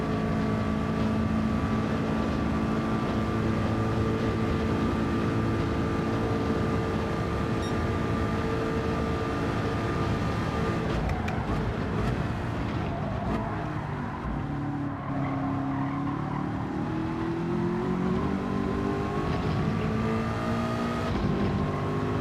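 A race car engine in the Gran Turismo racing game drones loud and steady throughout, its pitch holding high, then dipping and climbing again as the car slides with traction control off, with faint tire squeal.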